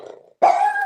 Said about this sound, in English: now he's so barking